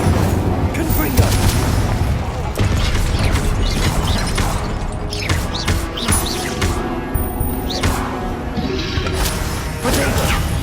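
Confringo fire spells explode in Hogwarts Legacy amid heavy combat. Repeated loud booms and crashes come in quick succession, layered with clattering impacts and spoken spell incantations throughout.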